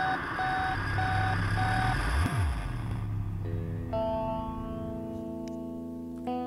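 Missile weapon fired in the Minecraft Voltz mod, a loud electronic sweep with a swooping pitch drop and beeping tones, followed by a sustained sci-fi hum that fades out, with no talk.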